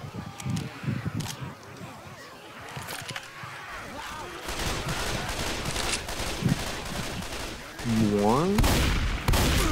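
Gunfire rattles through a shooter video game as question mark blocks get shot out, with bursts of rapid shots and scattered single cracks, later an electronic rising chirp, all mixed with people talking over it.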